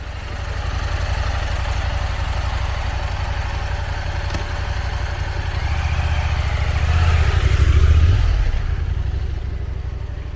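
A 2021 KTM 890 Adventure motorcycle on an on- and off-road test ride, its engine a steady close drone that swells louder toward the end and then eases off.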